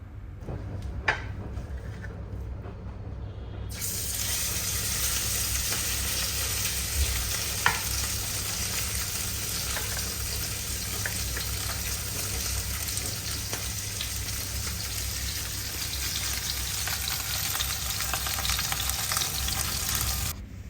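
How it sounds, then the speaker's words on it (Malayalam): Fish frying in coconut oil in a home kitchen: after a few quiet seconds, a loud, steady, close sizzle rises and crackles continuously to the end, with a few faint clinks. "അപ്പോൾ ഞാൻ മീൻ പൊരിക്കാൻ വെച്ച്"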